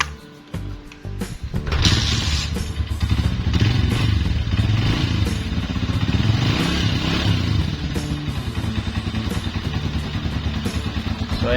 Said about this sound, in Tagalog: So ayan guys, umaandar siya.